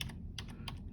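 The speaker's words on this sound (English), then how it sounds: "type in predator-prey graphing exercise" Three quick bursts of clicking computer keyboard keys as a web search is typed, close and fairly quiet over a low room hum, with no speech.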